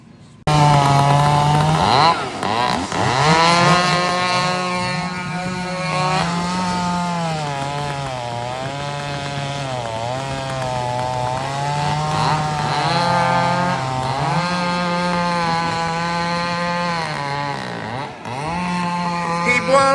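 A chainsaw bucks firewood rounds, its engine revving high and steady for long stretches with pitch dips as the chain bites, close and loud with no talk.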